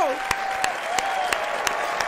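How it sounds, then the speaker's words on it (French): A studio audience on a French talk show claps to welcome a guest. The claps land as evenly spaced, sharp beats, with a voice or tune carrying over them throughout. "un tonnerre d'applaudissements, s'il vous plaît"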